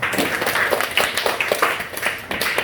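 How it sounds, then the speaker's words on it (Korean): Applause from a church audience, a lively but uneven clapping with individual hand claps standing out, fairly close and loud for a few seconds. "박수 한번 할까요?"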